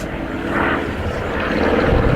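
Hawker Sea Fury piston-engined fighter passing at an airshow, a steady droning propeller roar that holds throughout and swells slightly toward the end.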